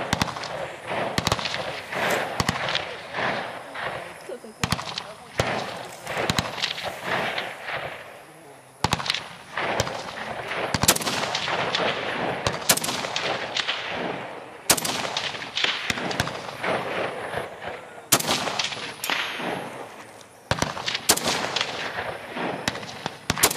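Repeated gunshots at shooting practice, sharp loud cracks coming irregularly in quick bursts and single shots across the whole stretch, with a few faint voices in between.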